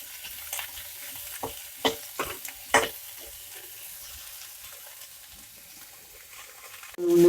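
Onions fry in a pan, with soft sizzling under a few distinct stirring scrapes and clinks early on, then a quieter steady fry before a sudden loud bump at the end.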